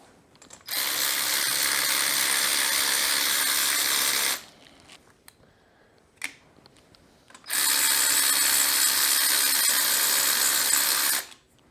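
A power tool whirs on the head nuts of a Honda TRX350TM Rancher engine in two long, loud, steady bursts separated by a few seconds of quiet with small clicks.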